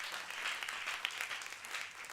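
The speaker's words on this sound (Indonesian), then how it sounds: "tepuk tangannya boleh lebih dahsyat lagi buat Yesus Tuhan kita" Church congregation applauding during a sermon, a steady wash of many hands clapping at moderate level throughout.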